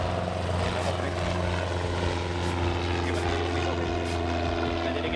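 A small propeller airplane drones loudly and steadily throughout, a close, continuous engine hum with a buzzing propeller tone and no other sounds over it.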